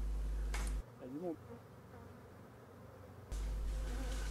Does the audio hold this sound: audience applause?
no